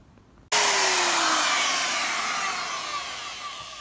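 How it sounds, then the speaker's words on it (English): A handheld router with a round-over bit eases the edges of cut wooden parts for a ceiling-mounted camera dolly, switching on abruptly and then running as a loud, steady high whine that slowly drops in pitch. "I actually clean the holes up and the edges with either the 16th inch round over or the 8th inch, or even sometimes a quarter inch round over"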